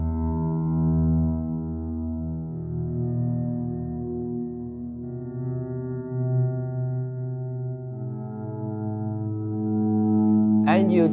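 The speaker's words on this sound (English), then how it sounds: "And you got some cool movie-ish cello sound" Guitar played through a NUX Trident pedal's violin mode, giving sustained bowed, cello-like notes that swell in without pick attack, loud and steady, with a brief higher squeal near the end.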